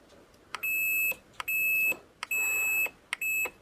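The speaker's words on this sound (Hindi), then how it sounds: "जैसे प्रेस करेंगे तो यहाँ पर बजर बजने लगेगा कुछ इस तरीके से" Multimeter continuity buzzer sounding while a phone's power button is pressed during dead mobile repair: four sharp, loud electronic beeps of about half a second each, evenly spaced, with no talk.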